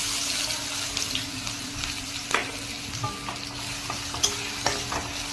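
Chopped onion frying in a pan with bay leaf, dried chilli and cumin, a steady sizzle broken by a few sharp stirring clinks and scrapes, close and fairly quiet with no voices.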